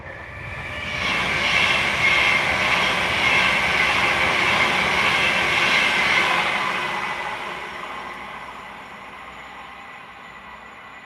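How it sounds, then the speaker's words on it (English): An Avanti West Coast Class 390 Pendolino electric train approaches and passes, a loud rising rush and hiss of wheels and air that holds for several seconds and then fades as it moves away, with no voices. "Avanti West Coast, Class 390 Pendolino is approaching."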